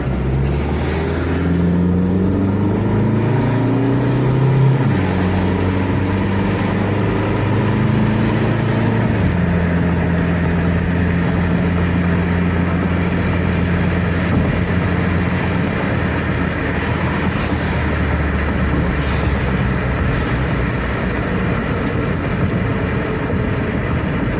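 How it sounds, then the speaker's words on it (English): A 1989 Turbo Plymouth Voyager minivan drives at speed with steady engine and road drone inside the cabin, its tone shifting as it changes gear. An annoying brake rattle from missing clips blends into the constant noise. "Don't mind the annoying brake rattle."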